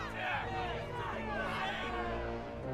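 Angry chariot-racing fans riot in the Hippodrome, a dense crowd yelling and shouting together in a loud, continuous roar of overlapping voices with no single speaker standing out.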